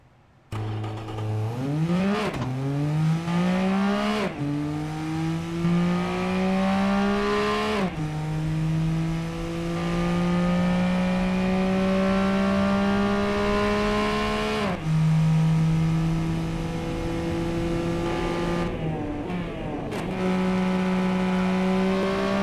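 Non-turbo 3-cylinder 1-liter car lapping an airfield track in Automation game, its engine climbing repeatedly through the gears with brief dips at each shift, loud and continuous throughout.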